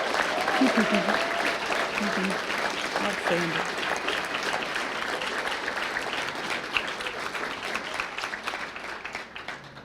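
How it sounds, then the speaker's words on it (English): An audience applauds a group of writers at a literary reading night, a broad, steady wash of clapping from many hands that holds throughout, with a brief spoken exclamation near the start. "Can we give all of these amazing writers another round of applause?"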